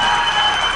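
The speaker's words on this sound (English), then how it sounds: "Applause upon applause," Dense, steady applause fills a school board meeting, a crowd clapping loudly and continuously without a break.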